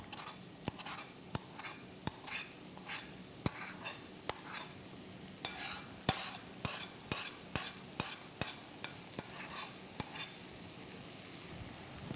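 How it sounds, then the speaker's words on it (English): Sauce being stirred into turkey bacon and vegetables in a pan for egg rolls, with regular utensil knocks and scrapes over a soft sizzle, close and rhythmic. "I'm gonna go ahead and mix in the sauce."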